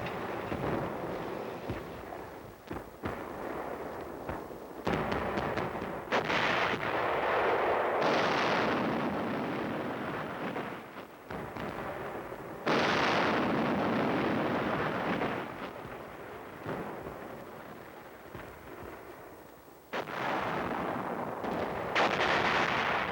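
A Korean War artillery barrage supporting an attack, with heavy guns booming in rapid overlapping volleys, dense rumbling blasts rising and falling continuously and loudly through the whole stretch.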